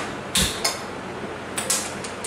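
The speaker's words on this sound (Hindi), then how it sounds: "इसके लिए मैं पहले गैस ऑन करती हूँ" A gas stove being switched on in a home kitchen while making palak paneer: a few sharp mechanical clicks and a creak from the knob and igniter, spaced out over a couple of seconds against quiet room tone.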